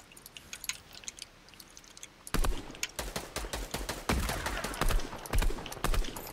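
Hunting rifle gunshots in a multiplayer shooter video game, a quick run of sharp, loud cracks that start after a quieter lead-in, with no talking over them.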